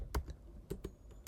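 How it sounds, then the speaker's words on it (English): Keys on a computer keyboard are tapped in a handful of quick, soft, uneven strokes, close and quiet, with no talking. "I'm going to type in rethink"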